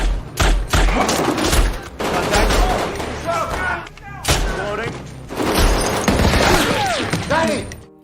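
Gunfire erupts in a shootout between special forces and armed men at a doorway, with rapid bursts and single loud shots in clusters, close and harsh, and voices shouting between volleys.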